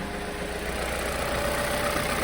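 A Vauxhall Corsa engine runs at a steady idle, a close, even mechanical hum with a faint rhythmic knock underneath and no voices.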